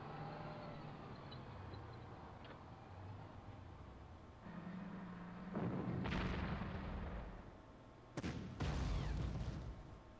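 Artillery fire at Stalingrad in the Panzer Corps strategy video game: rumbling battlefield noise building to two heavy booming blasts, the second a sharp double report, set against a low ongoing drone.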